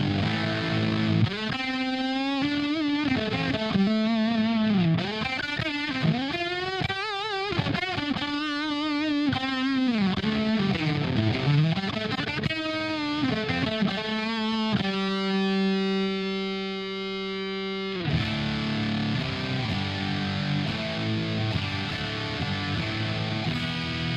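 An electric guitar runs through a distortion pedal into a tube amp, heavily overdriven and sustained, with bending melodic lines first and then held chords ringing out, loud and close with no talking.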